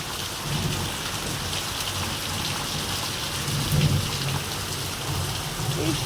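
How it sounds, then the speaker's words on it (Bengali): Sudden heavy rain pours steadily with a dense, even hiss, and dull thunder rumbles low beneath it at intervals. No one speaks. "এরকম হঠাৎ বৃষ্টি এমনিতে বেশ ভালো লাগছে ঠান্ডা ঠান্ডা হাওয়া দিচ্ছে"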